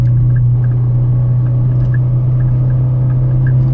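A Subaru R2 4WD engine climbing a mountain pass road, with a steady, loud low drone and hum heard from the cabin, no clear rev change, alone without talk.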